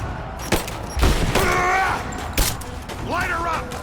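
Gunfire in Rise of the Tomb Raider, with sharp shots and bursts cracking over a busy combat din while voices shout in the middle of the fight.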